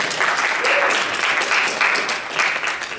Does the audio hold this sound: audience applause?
yes